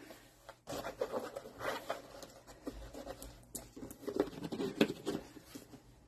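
A handwoven natural straw Panama hat from Ecuador is folded in half, giving soft, close crinkling and rustling with small crackles in uneven bursts, faint and without talk.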